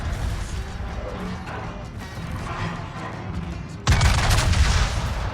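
Secondary guns on a West Virginia 44 battleship in World of Warships fire in a continuous rumbling barrage, dense low booms and crashes throughout, jumping louder with a heavy blast near the four-second mark.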